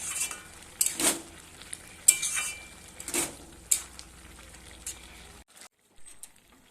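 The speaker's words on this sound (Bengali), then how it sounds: "এবার ভাজা করা চর্বিটা দিয়ে দিলাম খাসির চর্বি ছিল ওটা দিয়ে দিলাম" Fried goat fat being stirred into cooking jackfruit in a pan, with a spoon scraping and clinking in irregular bursts over a faint sizzle, then a brief near-silence at the end.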